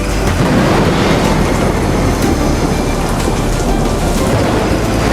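Heavy storm with steady rain and rumbling thunder, a dense, continuous roar of wind-driven rain that holds loud and even throughout, with no voices.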